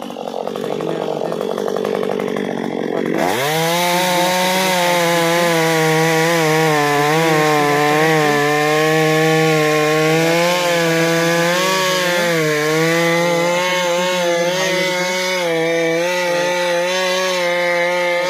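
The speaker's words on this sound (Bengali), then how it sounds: "সেই মেশিন দিয়ে ওই নিচের গোড়াটা কেটে দেওয়া হবে" Large chainsaw-like machine cutting through the base of a tree trunk, starting abruptly after a quieter opening and then whining loud and close with a steady pitch that wavers slightly as the blade bites into the wood.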